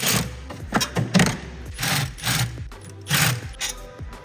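A ratchet works loose the V-band bolts on a Mercedes C63 AMG turbo setup, giving repeated bursts of clicking ticks in an uneven rhythm, close up with no talk.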